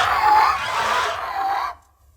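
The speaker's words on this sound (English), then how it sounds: "So a raspy screech." A raspy, drawn-out screech designed as the cry of a mosasaurus, loud and close, lasting under two seconds before cutting off into silence.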